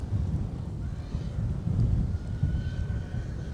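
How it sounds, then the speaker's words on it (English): Heavy rain outdoors, a low rumbling wash with gusty swells that sounds like distant thunder, heard alone without talk. "it's getting a little heavy rain"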